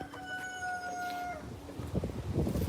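Rooster crowing with a long drawn-out call near the start, followed by chickens clucking and rustling at close range in a backyard garden.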